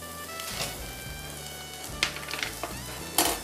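Spinach leaves with turmeric sizzling and being stirred in a pan, a soft steady frying hiss broken by a few louder scraping bursts.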